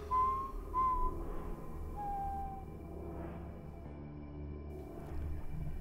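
A man whistles a few short, clear notes in a quiet spot, then stops; the calls are faint and sit over a low background rumble, with no talking.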